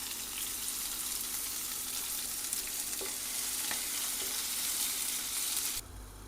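Chopped vegetables frying in hot oil in a home kitchen, a steady loud sizzle with occasional stirring scrapes and clinks, continuous throughout before cutting off abruptly near the end, no talking.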